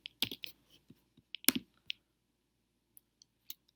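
Sparse clicks of keys on a computer keyboard as a username and password are typed, a short burst of taps followed by a few scattered single presses, close and quiet with no talking.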